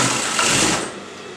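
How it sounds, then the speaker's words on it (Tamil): A sewing machine runs in a steady, close, loud whir for just over a second, stitching elastic onto a skirt, easing slightly toward the end. "இப்போ இதுக்கு மேலே ஒரு தையல் நம்ம போட போகிறோம்"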